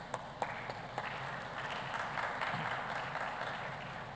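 Audience applause at a COP28-linked closing ceremony and deal room session, a steady broadband wash of clapping with a few sharper individual claps near the start, fairly distant and sustained throughout.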